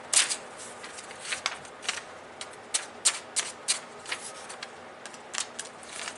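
A dull kitchen knife drags and scrapes against a sheet of paper without cutting it, giving a series of soft, papery scratches and rustles in irregular bursts, fairly close and quiet.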